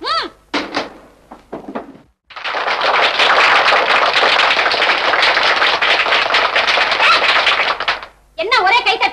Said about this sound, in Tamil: என்ன ஒரே கைத்தட்டல்?